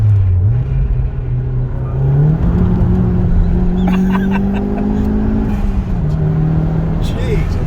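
MG ZS N-series turbo car accelerating hard in second gear, a loud steady engine drone rising in pitch and holding high from close inside the cabin, with no talk over it.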